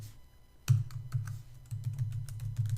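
Rapid, close clicking of keys on a computer keyboard as code is typed, continuous bursts of keystrokes with no voices.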